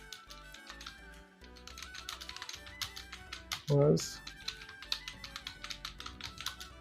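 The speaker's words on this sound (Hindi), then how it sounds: "अभी टाइपिंग करते हैं हम 2 मिनट का" Rapid typing on a computer keyboard during a timed practice test, a close, busy stream of key clicks with a brief louder thump midway, while someone talks over it.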